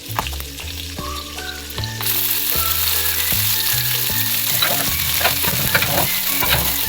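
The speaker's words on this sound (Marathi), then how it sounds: "त्यात पुन्हा बारीक चिरलेल्या 2 हिरव्या मिरच्या, कांदा टाकून चांगलं भाजायचं" Chopped onion and green chillies fry in hot oil with cumin, mustard seeds and curry leaves, a loud, steady close sizzle with stirring scrapes in the pan throughout.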